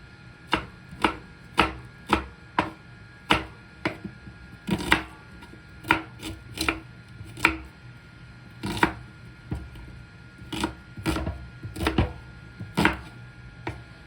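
Knife chopping vegetables on a board at home, about twenty sharp, close strokes in an uneven rhythm with brief pauses, no voices.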